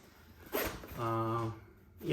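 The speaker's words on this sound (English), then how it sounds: "It's got the zip fly and it's a talon zipper." A Talon zipper on the fly of Levi's LVC 1967 505 selvedge denim jeans gives a short, close rasp, followed by a voiced stretch that sounds like talk.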